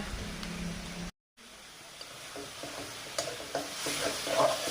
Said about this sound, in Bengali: মশলাটা ভাজা হয়ে গেছে, উতরে দিয়েছে মশলা থেকে।